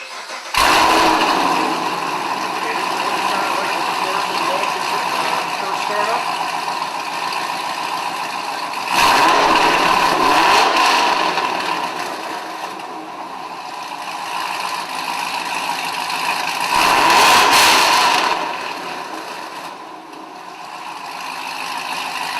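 A 2011-13 Camaro SS convertible with a CORSA cat-back exhaust fires up and idles with a loud, steady rumble, broken by three sharp rev blips spaced several seconds apart.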